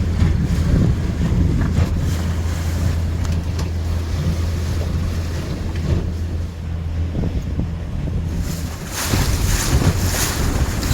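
A small boat motors across Lake Superior at just over 5 mph into a light headwind, a steady low engine drone running under rushing wind buffeting the microphone and the wash of water along the hull.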